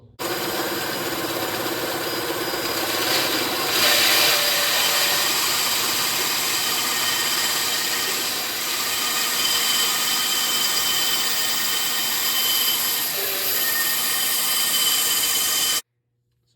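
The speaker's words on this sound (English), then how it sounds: "So here I am at the bandsaw, just getting ready to cut it to this wood" A bandsaw cuts a piece of wood, giving a steady, loud, close mechanical drone with a slight swell near the start. It runs unbroken and then cuts off abruptly at the end.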